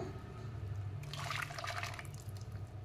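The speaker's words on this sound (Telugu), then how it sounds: "ఇప్పుడు పెరుగు వేసుకుందాము" Yogurt is added to a simmering chickpea curry, making a brief wet splatter and plop for about a second, close by, over a faint low background hum.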